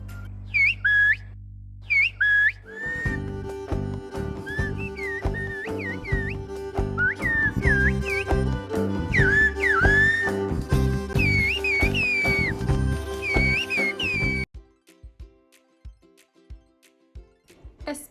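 Kulning, the high-pitched herding song of mountain villages: piercing, whistle-like sung calls with sliding pitches, repeated over instrumental accompaniment for most of the stretch before the singing stops and leaves quieter sounds.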